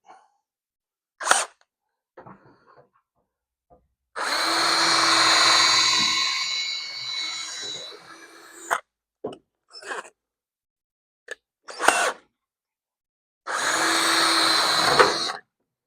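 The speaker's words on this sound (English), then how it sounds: "Trying to drill out that broken drill bit." A power drill drilling out a broken drill bit on a 1971 Challenger frame runs in bursts: a few quick trigger taps, then two long whining runs of several seconds with clicks and pauses between.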